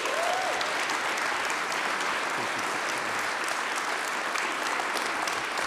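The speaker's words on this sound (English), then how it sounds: "How about a cheer for Dr. Rory Cooper?" A conference keynote audience breaks into sustained applause, a dense, even wash of many hands clapping that fills the room at full strength for several seconds with no speech over it.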